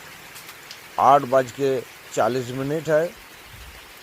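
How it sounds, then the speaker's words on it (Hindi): Steady morning rain falls over farmland in Falakata, Alipurduar district, North Bengal, a soft continuous hiss beneath someone speaking close by. "बारिश हो रहा है, रात भर बारिश हो रहा है।"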